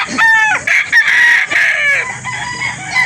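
A Boston-bloodline gamefowl rooster at a fowl sale in Calauan, Laguna crows loudly and close up, with several drawn-out crows and short clucks.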